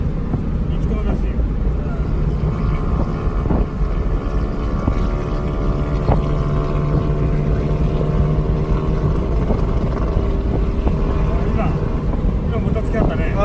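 A tuned 1980 Yamaha XS650 motorcycle on stock carburetors runs steadily on a road in Kananaskis, Canada, a continuous loud engine drone with wind rush throughout.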